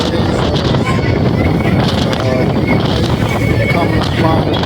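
Strong wind buffets the microphone in a steady, loud roar on a Chicago River cruise boat, with splashing spray and a low engine rumble running underneath throughout.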